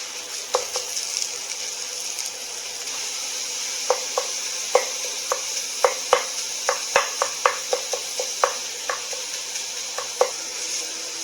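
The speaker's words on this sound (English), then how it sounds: "I'm just going to add that to our skillet. And we're just going to break that up." Italian sausage sizzles steadily in a skillet with a constant bright frying hiss, while a utensil breaks it up with a series of sharp scraping clicks and taps in uneven rhythm.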